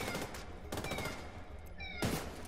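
Enemy gunfire in The Division 2, several bursts of shots crackling at about one-second intervals with a brief electronic whine between, loud and close with no voices.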